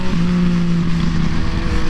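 A 2014 Yamaha FZ-09 motorcycle engine hums loud and close under throttle while riding, a steady droning note that shifts slightly in pitch, with no voices over it.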